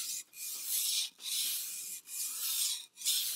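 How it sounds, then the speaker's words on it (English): Knife blade sharpened on a sharpening stone, four rhythmic rasping strokes of even length separated by brief pauses, close and clear with no voices. "Again, apply pressure on the stroke that takes metal off of the knife."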